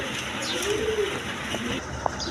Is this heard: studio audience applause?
no